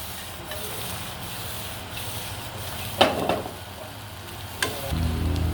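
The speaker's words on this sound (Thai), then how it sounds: "เอาลงไป ผัดให้ผักยุกก่อน" Vegetables including long beans and Chinese cabbage are stir-fried in a pan for fried instant noodles, a steady close sizzle with a few scraping stirs and a louder burst of frying near the end.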